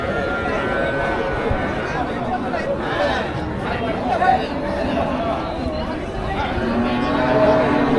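Cattle low at the busy Melapalayam cattle market, where racing bulls are traded, with moos rising over constant crowd chatter and nearby talking.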